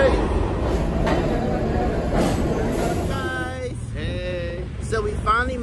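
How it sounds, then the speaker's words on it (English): Rumbling of a New York subway train heading downtown, a steady low roar with voices talking over it near the end. "We're on the train headed downtown, as you can hear."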